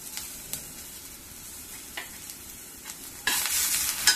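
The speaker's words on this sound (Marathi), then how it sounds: "त्याच्यामध्ये आपण थोडासा टोमॅटो घालणार आहोत आणि तो छानसा परतून घेऊया" Tomato sautéing with fried onions in a pan for shahi matar paneer, a soft steady sizzle with a few spoon scrapes and stirs, growing louder and brighter near the end as the frying intensifies.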